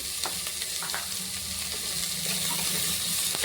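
Green chillies frying in a pan give a steady, close crackling sizzle with a few quick stirring scrapes, loud and continuous with no one talking.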